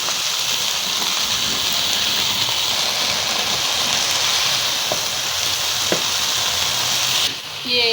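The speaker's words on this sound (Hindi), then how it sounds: "अब इसके अंदर हम ये देखिए मेथी डाल देते हैं।" Fenugreek leaves go into a pan of spiced potatoes and peas and sizzle with a loud, dense, steady frying hiss throughout, broken only by a faint clink near the end.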